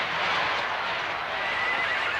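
A horse gives one loud, continuous whinny, rough and close, filling the whole short moment with no talk over it.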